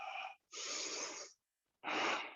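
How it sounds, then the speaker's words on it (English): Deep, forceful breaths during a yoga session, three long audible exhales and inhales separated by brief pauses, close and clear with no talking. "Keep breathing in, breathing out."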